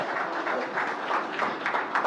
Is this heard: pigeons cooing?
no